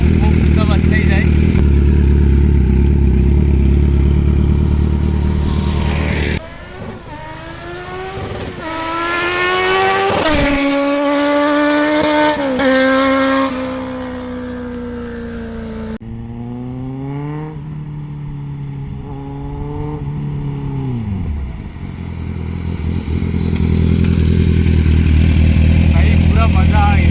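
A Kawasaki Z900 sport motorcycle revs and pulls away while being ridden, its engine and exhaust note rising and falling through several loud surges and gear changes, with voices heard at times.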